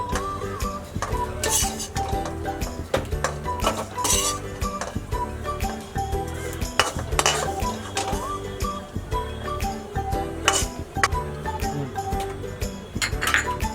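Roasted dried coconut is scraped into a metal plate (parat) while making dink kharik khobre ladoo, giving repeated light metallic clinks and scrapes over steady tonal background sound.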